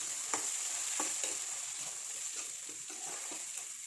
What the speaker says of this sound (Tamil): இப்போது இதில் நான் 2 மீடியம் சைஸ் தக்காளி சேர்த்துருக்கேன். சேர்த்துட்டு வதக்கிக்கோங்க.